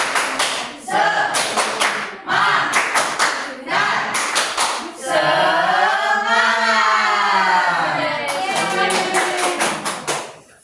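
A class of third-grade children doing the rhythmic 'tepuk semangat' clap in bursts of quick unison claps, loud and close, broken by a stretch of children's voices chanting together in the middle.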